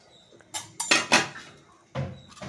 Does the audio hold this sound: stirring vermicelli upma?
yes